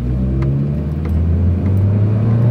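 A four-cylinder truck accelerates down a drag strip, its engine a loud, close, steady rumble with a rising drone as it pulls through the gears.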